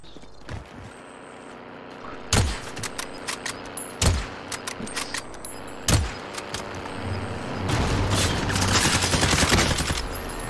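Gunfire in Call of Duty Cold War Warzone: a few sharp, loud isolated shots spaced about two seconds apart, followed by a denser burst of rapid fire and rumbling noise near the end.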